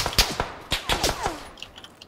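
Gunfire from the PUBG battle-royale game crackles in a quick cluster of sharp shots, several reports in the first second and a half, then fading to faint distant pops.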